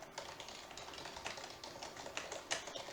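Rapid keyboard typing with uneven, clustered keystrokes at a close, fairly quiet level, running steadily throughout with no voices.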